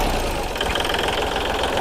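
Kubota L3608 tractor diesel engine running at a steady idle, loud and close, with a continuous knocking chug and no voices.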